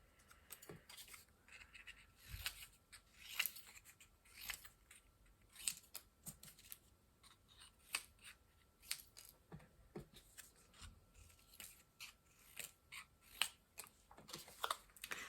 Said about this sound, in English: I'm just going to cut little bits.